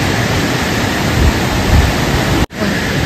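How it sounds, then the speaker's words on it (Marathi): Water released from a dam near Murbad rushes past in a loud, steady broadband roar, close and continuous, with one brief dropout near the end. "हे बघा पाणी सोडलेलं आहे इकडं डॅमचा"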